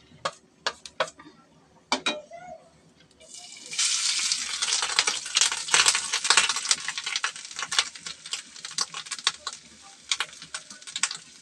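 Grated coconut frying in ghee in a wok for modak filling, a few sharp taps and clinks first, then a dense crackling sizzle with stirring scrapes that continues to the end.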